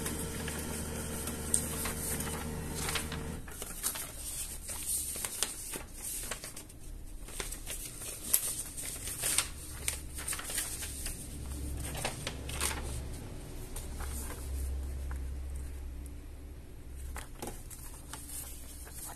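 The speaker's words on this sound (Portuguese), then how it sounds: "Aperte o OK novamente e vai imprimir a contagem de página." A Samsung SCX-4623F laser printer prints its configuration report, a continuous loud mechanical churn of rollers and paper feed with rattling, shuffling textures and a brief steady motor hum at the start.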